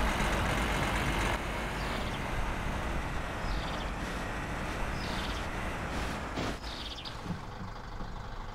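A van driving along a rural road in a car-simulation video game, a steady loud engine drone and road rumble throughout, with faint bird chirps overhead.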